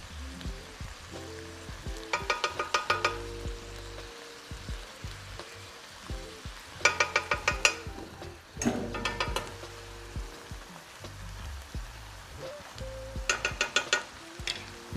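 Tomato paste and minced garlic are stirred in a hot pot, giving a soft sizzle under bursts of rapid scraping and clattering strokes that come and go.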